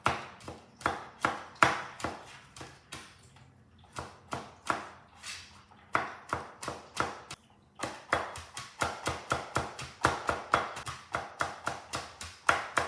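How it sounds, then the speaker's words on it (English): A knife chops garlic into small pieces on a cutting board in quick bursts of sharp, close taps, pausing briefly between runs. "we're going to mince it by just chopping it up to very smaller pieces."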